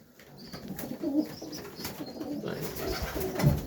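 Pigeons in a loft on a frosty, cold day before wind and rain, giving low soft coos that swell and fade, including a clearer burst near the end, over a light background hiss.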